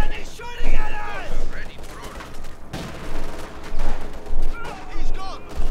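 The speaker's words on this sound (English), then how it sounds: "He's shooting at us!" Gunfire and battle noise from a Company of Heroes 2 fight between Wehrmacht and Soviet forces, with repeated shots and bursts layered over a constant din of combat, and voices talking throughout.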